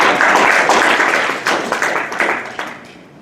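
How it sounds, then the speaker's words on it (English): Audience applause fills a crowded convention panel room at an anime convention, dense and sustained, fading gradually with a few scattered louder claps near the end. "That's worth a round of applause, isn't it?"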